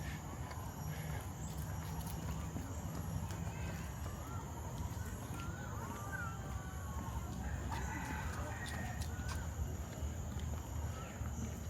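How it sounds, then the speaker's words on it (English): A rooster crows in a tropical botanic garden in Singapore, faint and distant, heard over a steady outdoor ambience of birdsong and general background noise. "I can hear the rooster, but I don't see any chicken."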